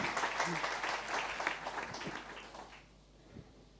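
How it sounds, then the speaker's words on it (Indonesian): Church congregation applauding during a sermon, a fairly faint burst of clapping that fades out over a few seconds, with a voice heard briefly amid it. "Tepuk tangan buat kemuliaan Tuhan."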